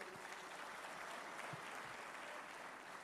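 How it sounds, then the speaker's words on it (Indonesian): A large audience at an Indonesian business association national congress claps steadily, a dense, even wash of applause that continues throughout without a break. "senior saya, Mbak Puan Maharani, kita berikan aplaus."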